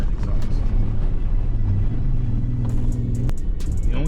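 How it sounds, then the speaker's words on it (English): A Pax Power supertruck engine idles and rumbles steadily close by, with a low droning exhaust tone that holds through the clip before a brief clatter near the end. "That exhaust sounds good."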